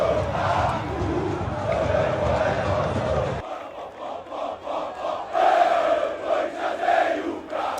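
Corinthians supporters chant and cheer en masse in a packed stadium at São Januário after a Brasileirão win, a loud continuous crowd roar with rhythmic swells of singing and a brief dip midway.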